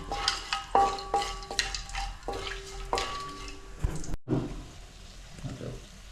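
Whole spices frying in a pot for village-style mutton biryani: quiet scraping and clinking stirring strokes over a faint sizzle, broken by a brief cut partway through.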